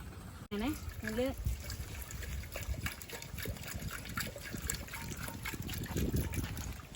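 Water poured into a cooking pot, a gushing trickle heard close by under a person talking throughout.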